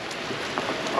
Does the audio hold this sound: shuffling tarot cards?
no